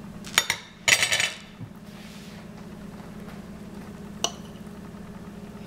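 A homemade holiday dressing ball set onto a small serving dish, heard as a few close clinks and scrapes of utensil against dish in the first two seconds, then a faint single tap over quiet room hum.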